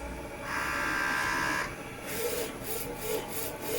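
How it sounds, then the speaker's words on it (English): An Epson-based dual-head PET DTF A3 printer working through a print job, giving a steady mechanical whir with a sustained tone early on, then rhythmic carriage pulses. It runs close and continuous, with no talk. "then the printer starts to print the picture"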